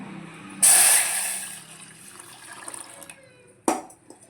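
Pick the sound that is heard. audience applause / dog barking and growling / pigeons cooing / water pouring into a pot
water pouring into a pot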